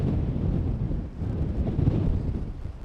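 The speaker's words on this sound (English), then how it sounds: "So there's still a lot of wind." Strong wind at Amsterdam Schiphol Airport buffets the microphone in a continuous low, rumbling roar that surges and eases a little, with no voices.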